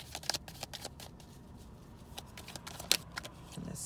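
Tarot cards are shuffled and drawn in a quiet room, with soft riffling flicks and a few sharper snaps spaced irregularly, close and faint.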